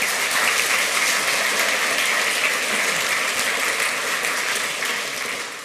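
A packed conference hall applauds a speaker taking the stage for a talk on the Atari 2600, dense steady clapping holding for several seconds before easing off slightly at the end.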